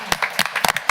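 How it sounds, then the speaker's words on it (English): Brief burst of applause from a small audience at a county council meeting, a few scattered claps close by and lasting under a second. "Let's have a round of applause."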